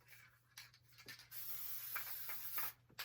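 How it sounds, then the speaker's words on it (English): Short bursts of basting spray adhesive hiss close by, a few quick spurts followed by a longer continuous spray, then another brief burst. "I like to spray it with a little basting spray."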